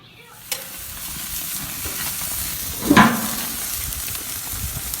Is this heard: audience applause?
no